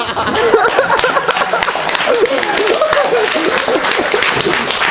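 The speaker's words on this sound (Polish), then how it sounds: "przed Państwem magister Stefan, wielkie brawa." An audience applauds a performer at a cabaret presentation, with dense, fairly loud clapping that keeps up throughout and scattered chuckles and chatter underneath.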